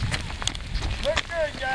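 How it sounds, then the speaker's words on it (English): Steady rain pours down during an outdoor 5K holiday race in Athens, Georgia, a constant hiss close to the microphone with a few brief voices calling out over it. "The rain is just getting too hard."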